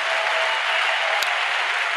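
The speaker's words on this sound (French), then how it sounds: "Est-ce qu'on peut apporter une offrande d'acclamation à Jésus-Christ?" A church congregation applauds steadily and evenly at a close, full level, with no voices over the clapping.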